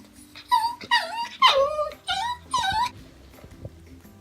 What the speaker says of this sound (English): you're probably hearing a dog in the background